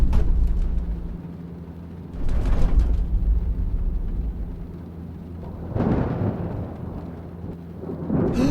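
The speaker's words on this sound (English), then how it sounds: "There's a nasty storm brewing behind us." Deep rumbling thunder from a nasty storm in the mystery video game Murder by Choice rolls in two or three heavy waves over a constant low drone, with no voices.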